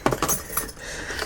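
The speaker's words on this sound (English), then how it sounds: "we're just going to fit my keys in there" Keys jangle in short metallic bursts while being fitted into a small box, close by and fairly loud at first, then settling into softer clinks.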